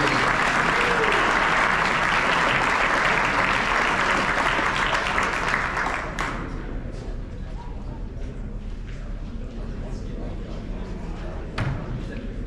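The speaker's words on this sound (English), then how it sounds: "let's give one more round of applause for the sophomore rookies" A crowd at a high school basketball end-of-year awards banquet gives a loud round of applause for the sophomore rookies, dense clapping that drops off partway through and leaves room noise and scattered sounds.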